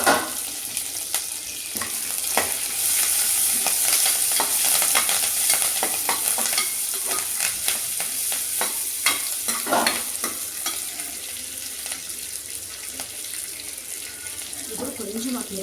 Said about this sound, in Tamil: கடலைப்பருப்பு பொரிஞ்சோடனே நம்ம வெங்காயத்தையும் சேர்த்துக்கலாம்